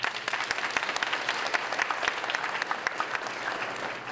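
Audience at a leadership conference breaks into applause, a dense burst of clapping from many hands, fairly faint and steady, fading slightly at the end.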